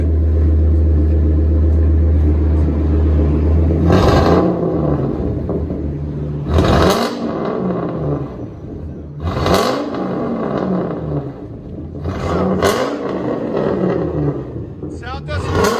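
Ford V10 engine with mufflers, collectors and tips removed, idling with a deep rumble and then revved hard four times in loud roaring bursts that fall back between blips, with a voice talking over it.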